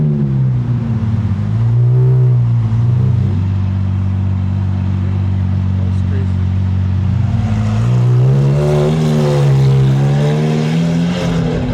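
A Lamborghini Aventador SVJ with a modified exhaust revs hard and very loud. Its deep engine note climbs and falls through repeated blips and sustained revs, and a strong surge comes near the end.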